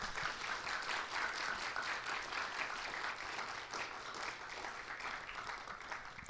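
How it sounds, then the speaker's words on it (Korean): A church congregation gives a round of applause, steady dense clapping from many hands at moderate distance that continues evenly and fades slightly toward the end. "우리 기혼 자매님들 위해서 박수 한번 쳐줍시다."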